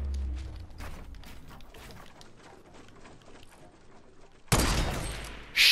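Gunfire from the Fortnite video game, with faint scattered sounds first and then two loud, harsh bursts of shots near the end.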